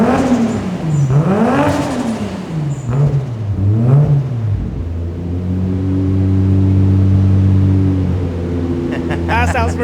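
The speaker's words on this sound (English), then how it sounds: "I'll give it a couple little revs so you can hear it." A Toyota JZX100's engine revs up and falls back in several blips up close, then settles into a steady idle hum. A voice speaks over part of it.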